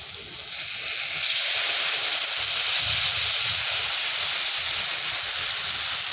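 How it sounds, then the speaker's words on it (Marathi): Besan batter poured into a hot tempering on high gas for Maharashtrian pitla, giving a loud, steady sizzle and hiss that swells after the first second and holds through to the end. "आपण हे जे मिक्स केलेलं आहे बेसन ते ह्याच्यामध्ये टाकून घ्यायचं। यावेळेस थोडासा गॅस मोठा करायचा म्हणजे याला फोडणी छान अशी बसते"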